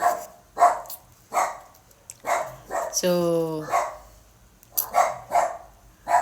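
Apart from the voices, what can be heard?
dog barking outside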